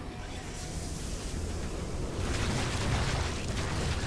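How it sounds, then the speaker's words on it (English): Gas being released in StarCraft II: a steady, loud, broad hissing roar that swells partway through and keeps rushing without a break, with no speech. "Release the gas."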